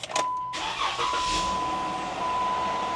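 A Jeep JK with the 3.6L engine cranks and fires up, then settles into a steady idle, heard close from inside the cabin with a faint high tone running throughout.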